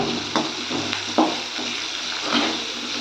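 Onions with asafoetida fry in a pan, a close continuous sizzle broken by a few sharp stirring scrapes and crackles, no voices.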